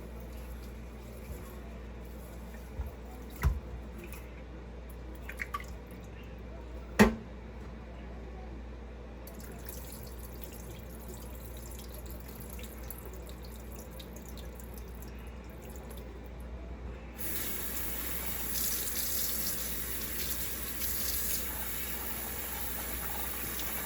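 Rice being washed in water at a kitchen sink, with quiet swishing and a few sharp clinks and taps, then running water from the tap rising steadily near the end.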